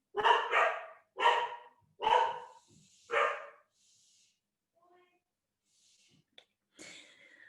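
A dog lets out four loud, close barks at a steady pace. Quieter breathy sounds follow, then a short faint yip at the end.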